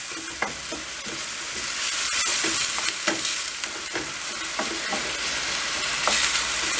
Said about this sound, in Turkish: Şöyle kavuruyoruz.